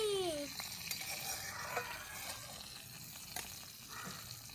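Eggplant slices frying in a pan, a faint steady sizzle with light scraping as pieces are lifted out, heard fairly distant under a soft background hum.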